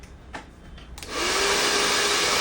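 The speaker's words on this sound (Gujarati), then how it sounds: "ડ્રાયર કરી" A hair dryer switches on after a second of quiet handling noises, then blows with a loud, steady close-up whoosh to the end.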